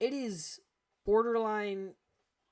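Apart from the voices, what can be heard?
No distinct noise like a dog, phone or traffic.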